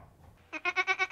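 A goat on a Virginia farm raised for meat and milk lets out one close, loud, wavering bleat that pulses several times in quick succession after a moment of near quiet.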